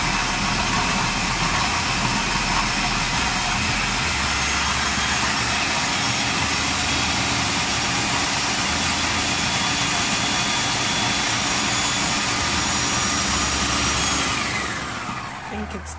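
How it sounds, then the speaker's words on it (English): A food processor chops ingredients for beef jollof rice, a loud, steady motor whir with a coarse, churning roar running unbroken for about fourteen seconds before spinning down. "So I don't want it too fine, that's why I'm using the food processor."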